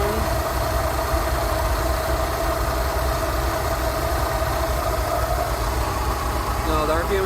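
A Rolls Royce Silver Shadow engine idles during carburettor tuning, a steady, close, even mechanical hum with a low rumble that holds throughout.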